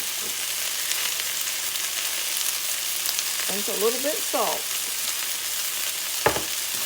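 Onions sizzle steadily in a pan with sage, rosemary, black pepper and salt, a constant close frying hiss while someone speaks briefly and a utensil clinks once near the end.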